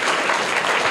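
A burst of dense applause from a crowd of children for a correct quiz answer, clapping steadily for about a second.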